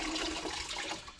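Water from a bucket poured to rinse cleaning solution off new steel panels on a K5 Blazer body, a close, steady splashing wash that tapers off near the end.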